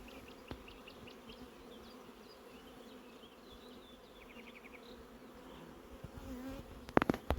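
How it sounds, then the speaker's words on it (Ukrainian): Steady buzzing of many honeybees near flowering acacia hums close by throughout, with faint chirps overhead and a sharp clatter of handling noise near the end. "Бжолка пішла на акацію. Загула. загула."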